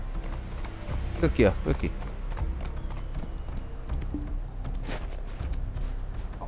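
A horse's hooves clip-clop steadily in a video game, close and even in rhythm, while someone talks over them throughout.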